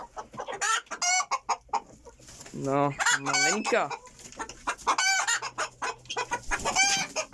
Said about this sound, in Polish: Tutaj mamy perlika białego na wizji